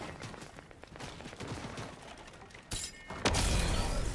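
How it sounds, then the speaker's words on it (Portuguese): Rapid bursts of distant gunfire crackle in the video game Fortnite in a fast rattling sequence, followed by louder, harsher blasts near the end. "eu tô ouvindo o barulho do tiro do cara bem baixinho, de longe"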